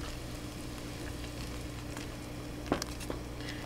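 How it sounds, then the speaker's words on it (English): A pot of beef barley soup boils steadily on the stove, a soft continuous bubbling and faint sizzle with a few small pops and clinks near the end, no voices. "We're going to allow this to boil for 2 minutes."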